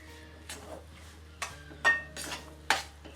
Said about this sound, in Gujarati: આમાં ધીમે ધીમે ઘી નાખતા જાય છે અને શેકતા જાય છે